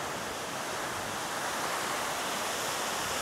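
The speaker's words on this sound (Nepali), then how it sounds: "यो चाहिँ हाम्रो सानो छहरे झरना" Small Sano Chhahare waterfall at Nuwakot, a dense and steady rush of falling water heard up close, loud and unbroken with no voices.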